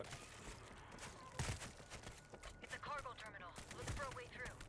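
Gunfire in the zombie shooter World War Z crackles in quick, uneven bursts of shots at moderate volume, mixed with excited voices talking over the action.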